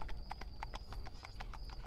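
Horse hooves clip-clopping in a steady rhythm of close, crisp steps in the video game Nine Witches: Family Disruption, with a faint steady tone behind and no talk.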